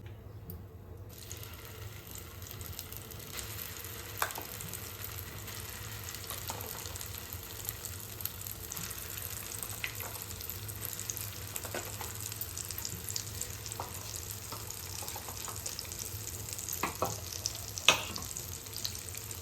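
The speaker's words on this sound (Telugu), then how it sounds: "అంత నూనెలో మంచిగా వేయించుకోవాలి. మనం మిక్సీ పట్టుకుంది మంచిగా వేయించుకోవాలి" Masala paste for paneer masala frying in oil in a pan, a steady, moderately loud sizzle running throughout with occasional sharper crackles and faint stirring clinks, no talking.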